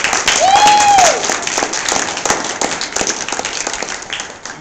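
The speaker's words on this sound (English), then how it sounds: "I feel like we should celebrate one more time with a round of applause." A conference crowd gives a loud round of applause, thick overlapping clapping that starts strong and slowly thins out, with a sharp whistle of cheering near the start.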